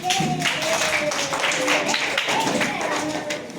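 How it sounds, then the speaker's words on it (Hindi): Children in a classroom clap for a classmate's handmade thank-you card for doctors, a dense patter of small hands close by with young voices calling over it. "ये देखो, तालियां बजाओ हर्षा के लिए।"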